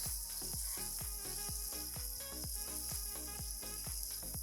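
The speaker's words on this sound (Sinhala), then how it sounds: "මං මේ මගේ බිත්තර ටික දැන් මේ බටර් ටිකේ හොඳට ෆ්‍රයි කරගන්නවා" Eggs fry in butter in a pan, a bright continuous sizzle layered with rapid, regular low thumps and crackles.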